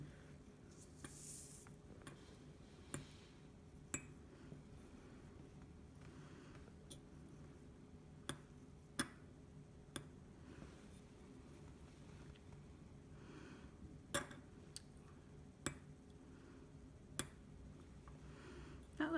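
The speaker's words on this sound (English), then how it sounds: "That little ticking sound means it's sharp." A sharpened dental instrument gives small, crisp ticks during a sharpness test, about a dozen faint, irregularly spaced clicks over a low steady background hum.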